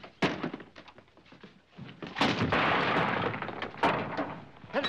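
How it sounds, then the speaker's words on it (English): A door slams in a 1949 film trailer, a sharp thump followed by loud clattering and crashing over a few seconds, with bursts of sound that come and go. "you dare slam that door"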